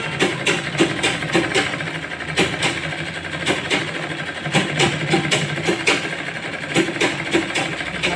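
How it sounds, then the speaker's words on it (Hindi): A sewing machine stitches the folded neckline of a lined 42-inch blouse, running in a fast, even, rhythmic clatter at close range with brief pauses between runs. "ये अब इसको हम ऐसे मोड़ मोड़ के और सिलाई लगाएंगे।"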